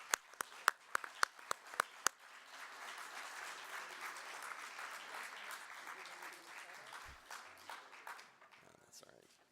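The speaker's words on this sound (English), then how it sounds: "let's give a round of applause to our new members" Several sharp, loud single claps open, then an audience at a business meeting breaks into sustained applause for new members, which tapers off near the end.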